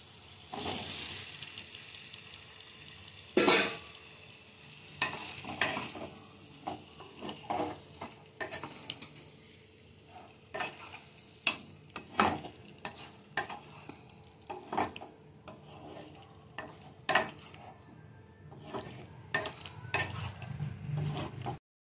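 Boiled taro and potato frying in spice masala in a pan, stirred with a busy run of scraping and clattering strokes over a steady sizzle, close by and without voices.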